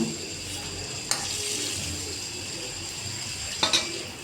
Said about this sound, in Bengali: তো মাথাটা আমি কিছুক্ষণ কষিয়ে নেব।